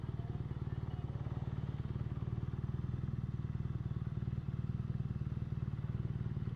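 A 2016 BMW R Nine T motorcycle idles along slowly in first gear with the clutch slipped, its engine giving a steady, even low thrum that stays close and moderately loud.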